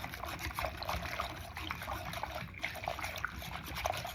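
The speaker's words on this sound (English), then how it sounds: "I'm using a Danish bread whisk here" Sourdough starter is stirred with a Danish bread whisk, giving soft, wet, sloshing and dribbling sounds that rise and fall irregularly at close range, fairly quiet, with no talking.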